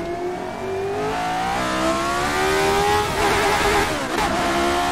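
A race car engine at the Ahvenisto circuit revs hard through rising pitch sweeps, then stumbles on a missed gear shift before climbing again, loud and close with no talking.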